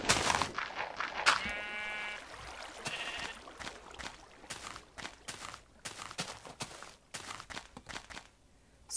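Sheep bleating in the Minecraft video game, a short clear bleat near the start amid soft game footsteps and clicks.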